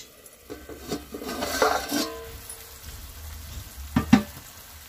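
A pan of water comes to the boil for fenugreek rava bhath, with soft bubbling and a light sizzle beneath a few close utensil clinks and scrapes against the pan.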